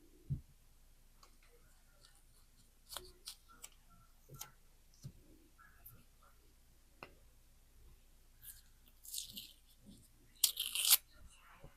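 Masking tape backing being peeled away, with quiet scattered ticks and crinkles and a brief sharper tearing rustle near the end, close and faint in a quiet room.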